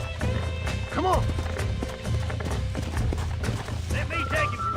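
Horse galloping in the Red Dead Redemption video game, a steady run of hoofbeat clip-clops under in-game music and effects, with someone speaking over it for most of the stretch.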